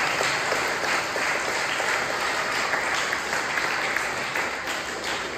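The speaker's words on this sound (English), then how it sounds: "So we give them a round of applause." A church congregation at a Sunday Catholic mass claps in steady, sustained applause, a dense wash of many hands filling the room at moderate loudness from start to finish.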